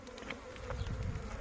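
Honey bees in a hive holding two queens buzz in a dense, continuous drone, close and steady, with no voices.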